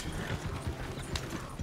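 Horse hooves clip-clopping in Red Dead Redemption 2, a steady trotting patter mixed into busy game sound.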